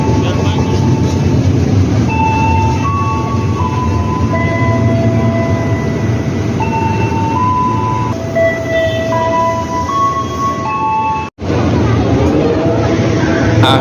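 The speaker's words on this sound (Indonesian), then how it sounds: "Nah, keretanya sudah datang ya teman-teman" A commuter train rumbles loudly and steadily into a station in Indonesia, with brakes squealing in high drawn-out tones near the end and voices murmuring underneath.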